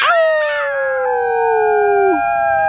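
Girls' voices imitate a long howl, several together in a sustained, slowly falling wail that holds for over two seconds before dropping off.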